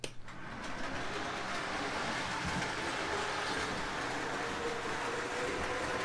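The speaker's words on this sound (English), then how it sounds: "The trains will tend to be running more of the time." O-gauge model trains run steadily on a track controlled by a Z-Stuff DZ-1011 block detector and relay, giving a continuous close rumble and hum with a faint high whine throughout, no talking.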